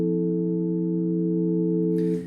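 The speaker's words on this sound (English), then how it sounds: "this special little chord here is only for the organ" A soft organ chord in a church psalm setting, held steadily as a few sustained tones for about two seconds before fading, with a brief rustle at the end.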